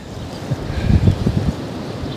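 Wind gusting at the margin of a fishing lake in January: a steady, fairly loud rushing roar that swells briefly in the middle, with no voices.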